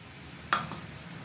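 About ten slit green chillies drop into a hot kadai for a lote fish jhuro, giving one brief, sharp sizzling clatter that fades quickly into quiet background.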